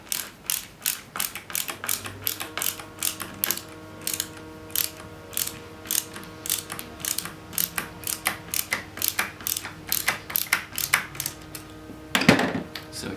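A bolt is screwed into an Ashford rigid heddle loom with a ratcheting tool, giving evenly spaced, crisp mechanical clicks in a steady rhythm that ends with a louder rattle, close and alone.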